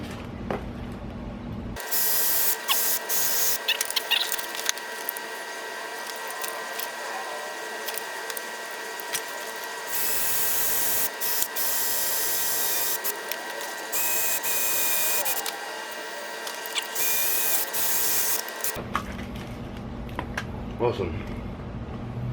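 A drill bores into a Honda Grom during an LED headlight install, with loud intermittent whirring bursts that stop and start over a steady hum, and a voice audible around them.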